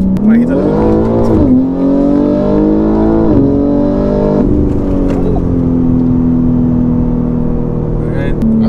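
A BMW G80 M3 accelerates hard on a public street, its engine rising loud and close through several gear changes before settling into a steady drone; the recording is from inside the car, with some talk.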